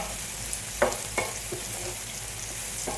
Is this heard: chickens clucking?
no